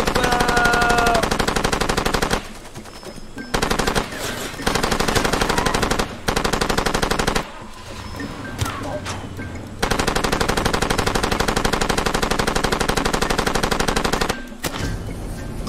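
Automatic gunfire in the jungle shooter Far Cry 2, loud sustained bursts of rapid machine-gun fire broken by short pauses, dense and close throughout.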